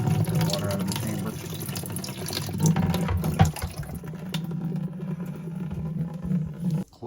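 Water drains out of the chamber of a tankless water heater, a continuous rushing, gurgling flow that runs steadily and close, easing into a thinner trickle toward the end.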